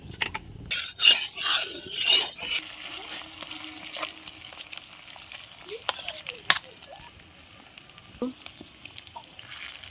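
An omelette of four beaten eggs with carrot, tomato and coriander fries in hot oil in a wok, giving a steady sizzle broken by a few sharp clinks of a utensil against the pan, with a quiet voice now and then.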